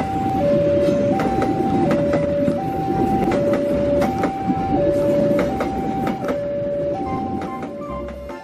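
A CC06 diesel locomotive train runs past close by, its steady rumble and clatter carrying a repeating two-note warning tone throughout along with sharp, regular clicks.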